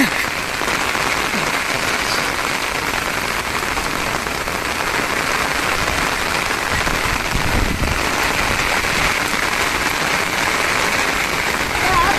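Heavy rain pours steadily in a village during an unusually intense downpour, a dense, continuous hiss of drops striking surfaces close by, loud and unbroken throughout with no voices.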